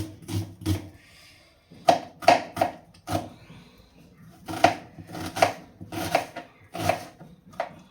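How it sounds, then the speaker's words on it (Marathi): Onion being chopped with a knife on a board, a close series of sharp knocks, first a few, then after a short pause a quicker irregular run of chops, no speech. "चला आता कांदा कट करून घेतला"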